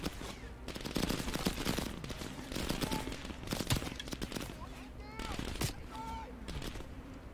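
Dense gunfire rattles through a Call of Duty: Black Ops Cold War level, bursts of rapid shots and scattered single cracks at moderate loudness, with a voice talking over it.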